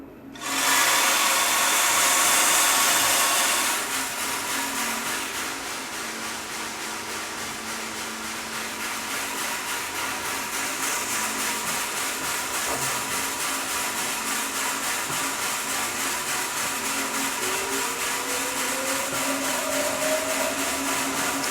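Loring S15 Falcon coffee roaster running just after the beans are charged, a loud, steady mechanical whir and fan roar that drops slightly after a few seconds and then holds constant, with no talking.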